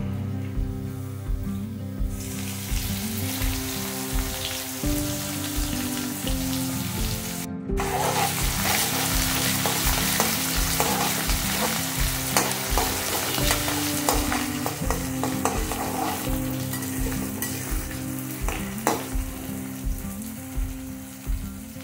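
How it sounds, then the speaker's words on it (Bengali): Chopped onion fries in the oil left after frying taro, with a continuous bright sizzle and rhythmic scraping strokes of a spoon stirring in the pan, close and uninterrupted by speech. "এবার এই তেলের মধ্যে আমি কচুগুলো সরিয়ে দিয়ে দেবো একটা পেঁয়াজ কুচনো।"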